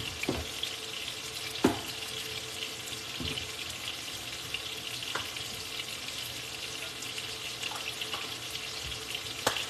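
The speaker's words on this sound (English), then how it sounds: "I'm only going to cook these for a few moments on each side" Ribeye steaks seasoned with steak-and-chop rub fry in a pan, a steady moderate sizzle with a few sharp pops and clinks, no talk.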